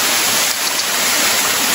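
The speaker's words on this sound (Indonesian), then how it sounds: "kami menemukan air terjun yang sangat indah" A tall waterfall in a forest river pours in a steady, dense roar that holds constant throughout, with no voices over it.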